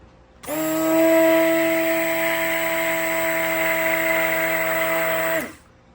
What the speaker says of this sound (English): I am actually going to blend the fragrance in very well with my stick blender